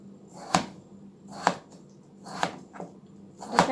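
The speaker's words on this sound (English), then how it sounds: "So you don't have to cut them too small or too large, about 1 inch size cube." A knife chops raw chicken into one-inch cubes on a cutting board. Four crisp, close strikes land about a second apart over a soft background hum, with no talking.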